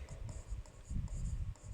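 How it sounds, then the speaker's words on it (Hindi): Writing on a board during a lesson: steady scratchy strokes in short repeated bursts, fairly close and moderately loud, with no talking. "तो यहां लिखेंगे"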